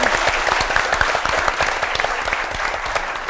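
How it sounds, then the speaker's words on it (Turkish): An audience breaks into loud, close applause to welcome a guest onto a Turkish talk show stage, dense clapping with sharp individual claps standing out, steady throughout. "Alkışlarla buraya alıyoruz"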